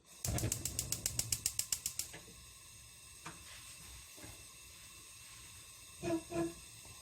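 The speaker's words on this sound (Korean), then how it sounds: "불을 켜볼게요." A gas stove burner igniting in a home kitchen: a rapid run of about a dozen sharp igniter clicks, then a soft steady hiss of flame, with a few faint knocks afterward.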